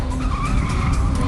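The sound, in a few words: car skidding during stunt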